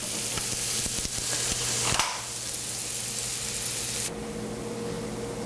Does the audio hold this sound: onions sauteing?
yes